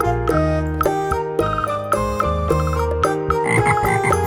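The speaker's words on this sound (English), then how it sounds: "Frog." Frog croaking heard as bursts of harmonic, rhythmic croaks over a steady bed of tonal music, the calls repeating several times at moderate loudness with no one talking.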